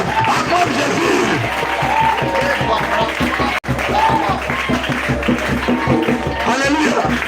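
French-speaking church congregation acclaiming Jesus at a revival gathering: a loud, continuous roar of crowd cheering and shouting with applause mixed in, steady apart from one brief dropout midway.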